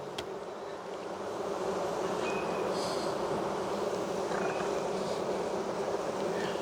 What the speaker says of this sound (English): There's a lot of bees in this box.